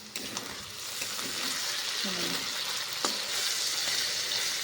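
Potato frying in a pan for sabudana khichdi, a steady close sizzle with a couple of light utensil clinks and a brief voice in the background.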